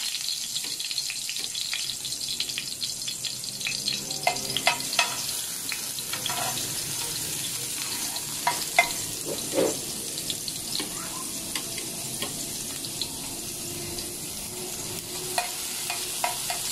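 Garlic frying in hot oil for pork pata kare-kare, with a steady close sizzle throughout and scattered sharp crackles and utensil clicks, no talking.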